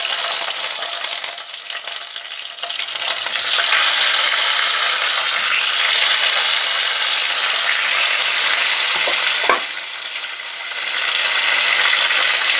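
Large ripe tomatoes go into hot oil seasoned with panch phoron, giving a loud, dense, continuous sizzle that drops briefly and then rises again as they hit the pan.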